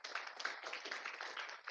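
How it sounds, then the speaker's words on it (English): Audience at a corporate workshop clapping in a brief, dense burst of applause, many hands at once, steady and moderately close for under two seconds. "Can you please give him a round of applause?"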